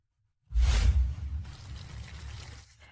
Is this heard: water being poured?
yes